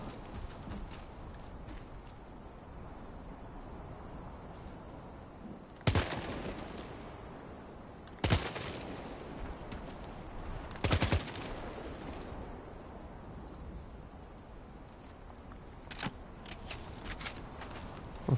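Gunfire in Death Stranding: a few sharp, isolated shots ring out several seconds apart over a quiet, steady outdoor background, with a couple of fainter pops later.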